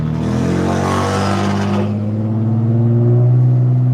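A BMW E90 325i engine revs hard nearby, a loud roaring burst that drops into a deep, throbbing idle rumble with strong steady low tones.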